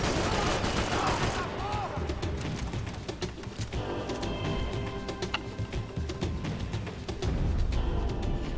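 Rapid gunfire bursts and single shots from the Max Payne 3 video game crackle in dense volleys, with someone talking over the shooting.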